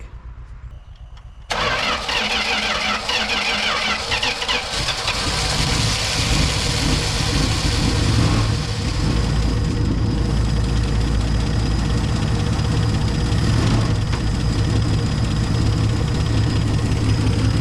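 An old Dodge Challenger engine, long neglected and drawing old fuel, cranks and catches after a brief pause, then settles into a loud, steady idle that runs on without any talking.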